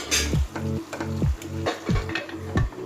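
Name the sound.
stirring mutton with raw banana frying in a pan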